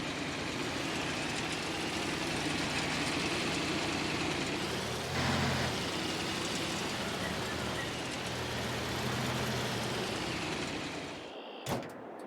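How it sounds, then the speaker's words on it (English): A vehicle engine idling and running steadily in Farming Simulator 22, a low, continuous drone that holds for most of the stretch and then cuts off near the end. "Let me just pull over there and get this engine off."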